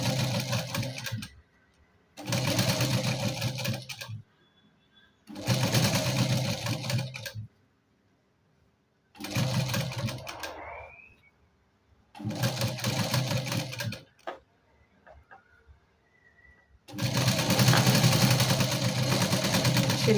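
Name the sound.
sewing machine stitching katori blouse at neckline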